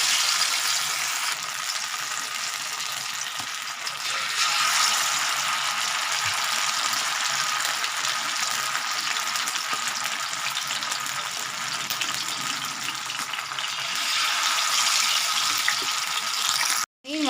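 Masala fish frying in hot oil on a griddle, a loud, continuous crackling sizzle that fills the whole stretch, growing a little denser midway and ending with a brief clatter.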